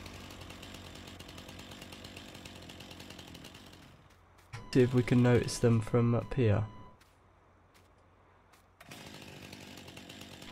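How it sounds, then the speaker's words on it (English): A chainsaw in the Farming Simulator video game runs with a steady, buzzing drone that cuts out while someone talks, then starts up again afterward. "Get that chainsaw off."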